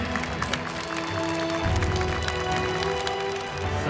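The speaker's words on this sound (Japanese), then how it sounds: "これは拍手でしょう。" Steady audience applause fills an esports final, the Arena of Valor International Championship Japan qualifier at Tokyo Game Show 2019, a dense sustained clatter of many hands from a large crowd.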